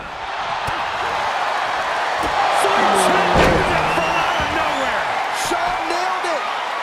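A back suplex slam in WWE 2K25 lands with a heavy thud under a roaring arena crowd, as a commentator talks over the whole scene and the cheering swells around the impact.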